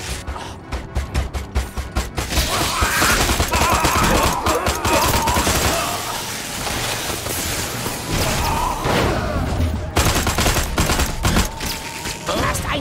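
Rapid bursts of automatic gunfire shooting at a mast in the video game Destroy All Humans, dense and loud with thumps and slams, under intermittent shouted voices.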